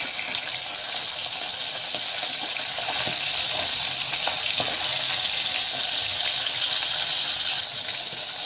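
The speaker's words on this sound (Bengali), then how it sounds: "এখন মাছগুলো ভেজে নেব।" Aila fish fry in hot oil in a kadai, a loud, dense and continuous close sizzle with faint crackles throughout, no voices over it.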